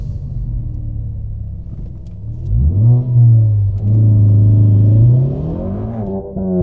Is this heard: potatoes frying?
no